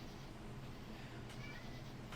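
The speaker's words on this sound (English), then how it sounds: "Oh, we have another cat coming in." A cat meows faintly and briefly in the distance, barely rising over a steady low hum and background noise.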